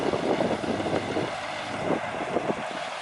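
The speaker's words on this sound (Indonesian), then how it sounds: "Dan rerumputan yang tinggi ini diterjang saja oleh lokomotif" A sugar cane railway locomotive of the Semboro sugar mill pushing through tall grass toward Jombang, a steady rushing roar of engine and brushing vegetation mixed with heavy wind buffeting, close and continuous throughout.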